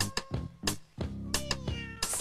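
A cat meows several times in quick succession, close and loud, with short drawn-out cries and brief pauses between them.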